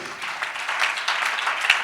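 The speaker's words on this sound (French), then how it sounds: "Je vous demande d'applaudir nos invités" A French journalism conference audience applauding the guest panelists, a steady patter of clapping that grows slightly fuller and carries through the whole moment.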